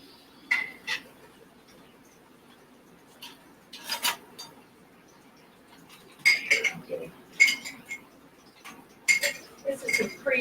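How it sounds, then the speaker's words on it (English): A metal skillet holding a tablespoon of coconut oil being handled in a kitchen, with scattered clinks and clatters of cookware and utensils in short bursts, close by. "I've got a skillet here. It's got a tablespoon of coconut oil in it."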